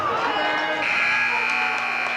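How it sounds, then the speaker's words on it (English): Buzzer at a boys' varsity high school basketball game sounding the end of the first quarter, a long sustained electronic tone holding steady over gym crowd noise. "there's the buzzer for the end of the first quarter"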